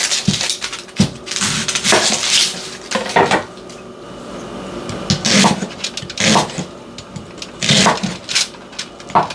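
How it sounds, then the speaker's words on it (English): A knife chops red onions on a cutting board in a home kitchen, giving a run of crisp, irregular knocks and clacks in close bursts with short pauses between, loud and near with no talking. "So now I'm going to cut up some red onions because I'm going to grill some red onions."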